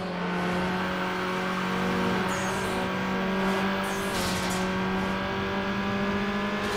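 A Nissan 240SX engine revs steadily in the racing game Need for Speed Underground, a sustained loud drone held close and alone with no talk over it.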